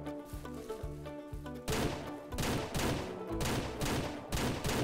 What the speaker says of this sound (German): Diese Schüsse!